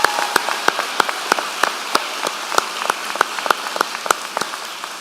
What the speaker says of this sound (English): Graduates, please join me in a round of applause for your family and friends who are with you today.